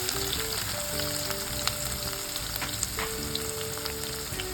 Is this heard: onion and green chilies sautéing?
yes